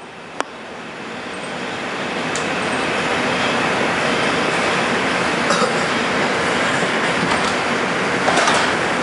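A 2003 Bombardier R-142 subway car, number 7035, runs on the IRT Lenox Avenue line as a 2 express, with a loud continuous rumble, rushing wheel noise and occasional clicks and squeals.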